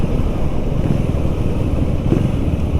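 KTM Duke 390 Gen 3 motorcycle engine droning steadily and loudly at close range, with rough low rumble and wind buffeting throughout, no speech.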